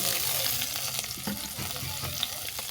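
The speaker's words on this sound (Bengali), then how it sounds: "তেল গরম হয়ে গেলে তুলে দিচ্ছি গাজর বিন" Carrots and beans frying in hot oil for a muri chowmein dish, a steady close sizzle with scraping stir strokes throughout, no talk.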